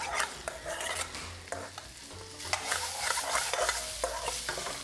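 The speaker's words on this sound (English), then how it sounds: "the paneer is starting to go brown on the outside" Paneer cubes fry in a pan for saag paneer, giving a steady close sizzle with scraping and stirring sounds throughout and no voices.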